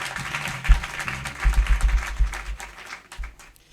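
Scattered clapping from guests at a dinner event, uneven and moderately close, with murmuring voices underneath that thin out toward the end.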